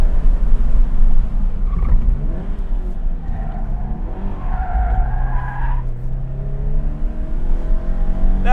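A 2013 Subaru BRZ drifts with its engine revving hard and tires skidding loudly, the engine note climbing and falling through the slide, recorded close up.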